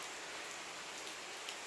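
Soft, steady rain hisses down on potted plants in Tokyo, a faint even patter with a single brighter drip near the end and no one talking.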